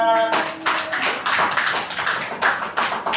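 A school class claps hands together in a quick, even burst of many palms, close and fairly loud, following a short tone at the start.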